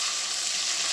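Pieces frying in hot oil at a rooftop picnic, a steady close hiss of bubbling oil with no break and no talk.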